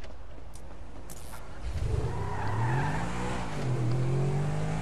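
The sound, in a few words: car engine revving in the video game GTA V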